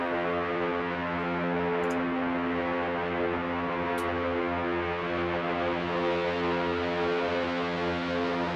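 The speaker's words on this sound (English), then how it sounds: "And then I added a little bit of reverb." Modular synth patch with added reverb, a steady sustained tone rich in stacked harmonics droning evenly and alone, with faint reverb trails and two brief high ticks.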